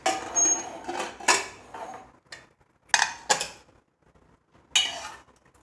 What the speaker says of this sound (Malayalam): നമുക്ക് ഈ കുക്കർ ഒന്ന് തുറന്ന് നോക്കാം